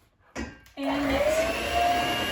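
Cake batter for a hot milk cake being whirred by an electric mixer, a steady motor drone that starts abruptly after a short burst and keeps going loud and close with a rising pitch.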